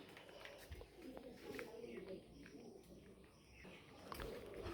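Quail kept for egg laying give faint coos and chirps against a low background, with people talking nearby.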